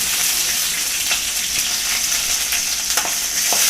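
Curry leaves and masala paste frying in a pan for a traditional Kerala-style vankada fish curry, a loud continuous sizzle with faint stirring scrapes and no voices.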